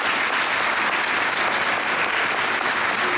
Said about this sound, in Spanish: Under obedience, we are clapping the hands and praising the Lord.